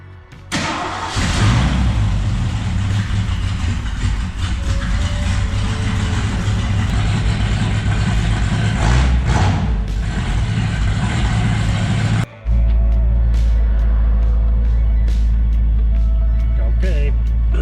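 A 1965 Ford Mustang with a 4-speed Toploader gearbox starts up and drives off on a test run, its engine rumbling loudly and close throughout, before a sudden shift to a deep, steady low drone near the end.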